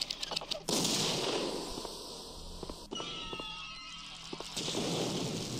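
A drudge lord fires rockets in the video game Blood 2, giving a run of booming blasts and sharp gunfire cracks with rumbling explosions, loud and close, broken by short quieter gaps.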